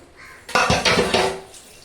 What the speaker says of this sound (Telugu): కొంచెం వాటర్ వేస్తున్నామండి కొంచెం కుక్కర్లో తిప్పి పోసేస్తున్నాను